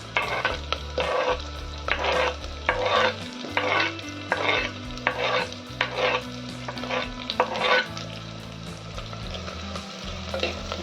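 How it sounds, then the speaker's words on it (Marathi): Onion with chopped chili and garlic sautés in a pan, a steady sizzle broken by regular scraping strokes of a spatula stirring roughly every second, close and fairly loud, with no voices. "चला याला लाल होईल छान परतून घेऊया"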